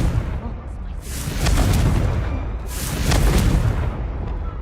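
A fiery Confringo spell explosion in Hogwarts Legacy: two loud, rumbling booming blasts about a second and a half apart, each swelling and fading over a dense low roar, with a voice briefly heard.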